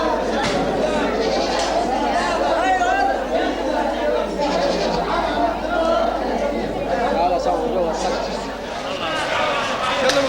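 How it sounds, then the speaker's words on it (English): Goats and sheep bleat in Egypt ahead of a ritual sacrifice, their cries mixed into a dense, steady hubbub of crowd chatter. "The ritual sacrificing of goats and sheep, supervised by the Reverend Father Butcher."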